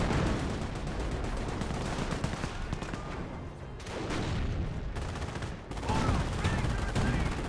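Battle gunfire in Company of Heroes, a dense continuous rattle of rifle and machine-gun fire with overlapping bursts and booms, loud and sustained throughout with brief lulls.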